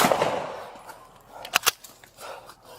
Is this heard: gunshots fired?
yes